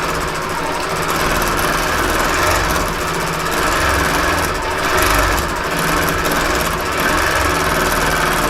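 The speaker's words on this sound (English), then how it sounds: "I don't want it to roll up as I'm trying to sew the binding on" A longarm quilting machine sewing binding onto a quilt on the frame, a loud continuous mechanical hum and rapid rattling needle drive running steadily close by.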